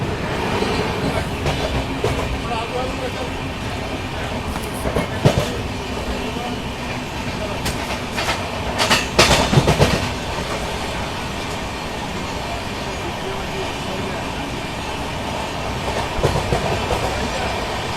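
The Bangalore–Bhubaneswar Duronto Express running on rails gives a loud, steady rumble with clickety-clack and occasional clanks, heard close from the moving train, with no speech.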